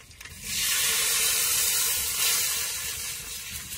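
Water poured into a pan of hot oil with crackled cumin and coriander leaves bursts into a loud, steady steam-and-sizzle hiss after a brief quiet start, holding strong before easing slightly toward the end.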